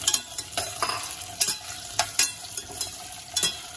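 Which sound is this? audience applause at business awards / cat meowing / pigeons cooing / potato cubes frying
potato cubes frying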